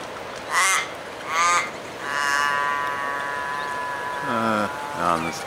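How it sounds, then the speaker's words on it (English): Crows caw at a bird-feeding spot at Loch Sport, several harsh, drawn-out calls in a row, loud and near, with a nasal, wavering tone to the later ones. "And we've got a couple of crows as well."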